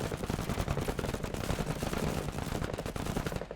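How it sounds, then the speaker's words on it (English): Continuous machine gun fire in the MENACE tactical video game, a loud, unbroken rapid burst of closely spaced shots filling the whole stretch. "I'm going to open fire at these eggs."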